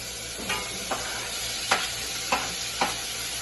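Onions fry in a pan before tomatoes go in, with a steady sizzle throughout and about five light stirring scrapes spaced across it, close and without voices.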